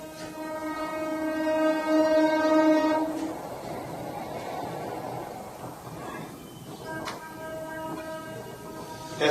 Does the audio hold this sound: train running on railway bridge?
yes